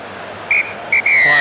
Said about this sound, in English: referee Legoete blows the whistle to bring the first half to a close